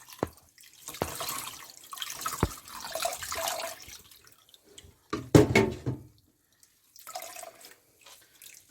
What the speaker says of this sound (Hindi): ऊपर इसके ये पानी डालना है, क्योंकि इसके अंदर जो होगी ये निकल जाएगी। ये ऐसे पानी हमने डालना है।